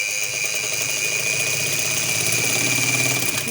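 A sewing machine runs continuously while stitching the straight side seam of a kurta-style shirt, giving a steady close mechanical whir with a faint high whine throughout.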